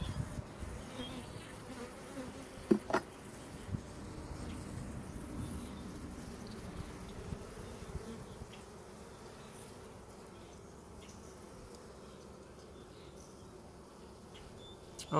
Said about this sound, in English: there's a lot of bees in this nuke.